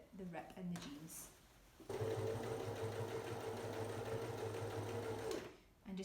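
A sewing machine zigzag-stitches over a rip in denim jeans: a steady, close mechanical whir that starts after a moment of talk and runs for several seconds before stopping.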